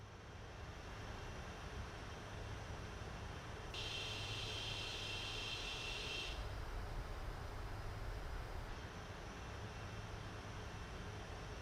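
Faint, steady roar of Boeing 747-400 jet engines during approach in a flight simulator, a smooth broadband hum with a brief brighter hiss partway through, no voices.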